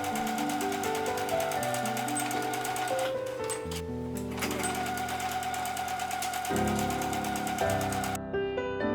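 A sewing machine stitches seams on a denim tote bag, its steady rapid mechanical chatter running nearly without a break and shifting pitch as the speed changes, then stopping abruptly near the end.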